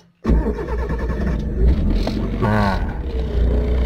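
A car engine cranks and catches after a short silence, then settles into a steady, loud idle with a brief rev, heard close with nothing else over it.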